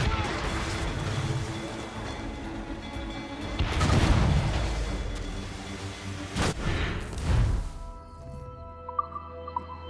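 Ship cannons firing in Assassin's Creed Rogue during a naval battle: a few heavy booming blasts with crashing impacts, rumbling over a noisy sea backdrop, with game voices nearby.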